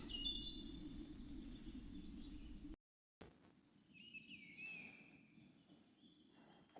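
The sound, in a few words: birds singing in spring woodland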